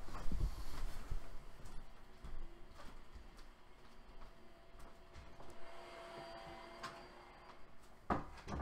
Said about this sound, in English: Sorry if you guys just heard the vacuum cleaner going really loud.